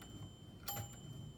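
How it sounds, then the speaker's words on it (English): A 1955 Royal Quiet DeLuxe typewriter bell gives one quick bright ding, faint and close, over a quiet background. "this machine, it's ready to go, and you can hear the bell working"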